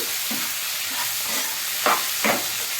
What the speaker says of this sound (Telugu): నేను 2 టొమాటోస్ ఈ విధంగా చక్కగా కలుపుకోవాలి.